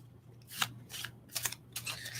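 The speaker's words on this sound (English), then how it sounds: "I love shuffling the shuffling sounds." Tarot cards being shuffled by hand in a quiet room, several soft riffling bursts in an uneven rhythm, close and fairly quiet over a low steady hum, with no talk.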